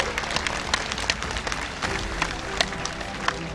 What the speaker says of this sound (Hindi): अरे ताली बजाओ भैया।